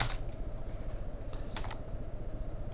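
Rapid, light keystrokes on a computer keyboard, a quick irregular patter of close clicks over a low hum, a few louder taps standing out near the end, with no voices.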